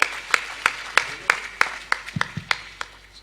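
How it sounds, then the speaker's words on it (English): An audience at a Sikh community welcome gathering claps along in a steady beat, roughly ten sharp, evenly spaced claps that crowd together at the end, with no talking over them. "Give yourselves a round of applause."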